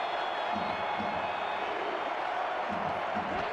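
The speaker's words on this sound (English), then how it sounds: "DC crowd loud on their feet." Football stadium crowd in D.C. on their feet late in an SFL game, a loud steady roar that fills the whole span, with a commentator talking over it.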